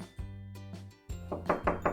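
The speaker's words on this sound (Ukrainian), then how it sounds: "Раптом у двері хтось постукав." Several knocks on a door, a couple of separate raps followed by a quicker series of three, close and fairly quiet.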